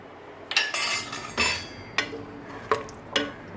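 A metal pressure-cooker pot, opened after cooking red kidney beans, is set back on the stove with a series of sharp clanks and clatters, close and loud, at irregular intervals.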